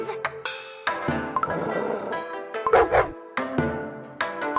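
Grey wolves in a Cookie Run Kingdom cutscene give a run of sharp, close yips and barks in bursts, with short whimpering tones between them and no talk.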